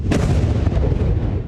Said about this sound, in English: Just a ton of explosions happening all around us. Then one Hamas rocket made it through.